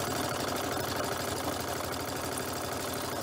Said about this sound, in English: all I have to do is just to keep it close to the cording and stitch away.